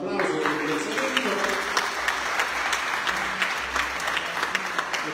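A congregation claps in a church during a novena service, steady dense applause filling the room for several seconds with a roomy echo and a few voices beneath.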